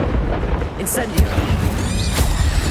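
Incendio fire spell cast during combat in Hogwarts Legacy, a dense rumbling whoosh of flame with crackling bursts over a busy game soundscape, with a voice shouting the incantation over it.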